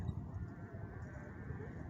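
Seals calling in the distance near Morro Bay, faint low bleating barks under a steady wash of outdoor ambient noise, continuous and far off.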